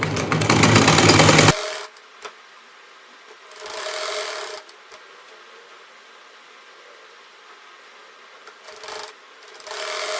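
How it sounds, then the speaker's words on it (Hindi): Sewing machine stitching the neck of a blouse: a loud steady whirring burst at the start, then softer intermittent runs of stitching separated by quiet pauses. "अब मैं यहाँ पर रखकर सिलाई लगाऊंगी और यहाँ पर रखकर सिलाई लगाऊंगी।"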